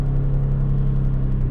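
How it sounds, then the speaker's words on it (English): Nissan Skyline R34 engine idling while running rich, a loud, steady, deep rumbling drone with an even low throb, close up and without voices. "see the car's running rich, rich, rich."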